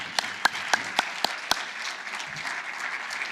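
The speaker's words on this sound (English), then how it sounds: "Let's have another round of applause for all our fantastic speakers this weekend." Applause from a conference audience at the close of a weekend LibertyCon event, with a few sharp distinct claps standing out over a steady, dense wash of clapping that continues throughout.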